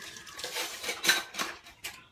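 Plates, dishes and cutlery clattering as they are washed, with steady close clinks and scrapes of metal and ceramic and a few sharper knocks, no voices.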